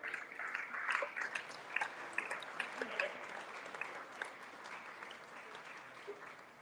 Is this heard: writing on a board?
no